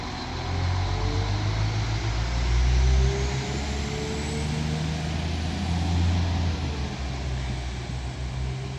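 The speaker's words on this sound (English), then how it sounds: "This Northern 195 departs Rochdale now with the delayed 12:47 Northern service to Chester from Leeds" A Northern class 195 train departing Rochdale station on the Calder Valley Line, its engine giving a close, steady low rumble that swells slightly as it pulls away, with no talking.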